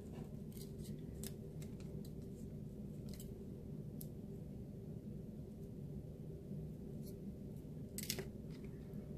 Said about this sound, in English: just snip off my ends there